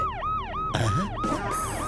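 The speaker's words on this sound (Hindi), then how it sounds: "सायरन की आवाज बाहर से आ रही है" A police siren wails outside in a steady repeating up-and-down cycle, loud and continuous, with a brief low thump and other rumbling mixed in partway through.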